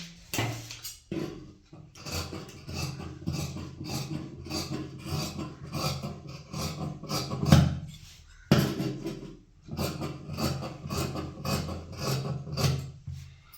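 Repeated rhythmic rasping snips of scissors cutting blouse cloth along marked sleeve lines, close and fairly quiet, in two long runs separated by a brief pause, with no talking.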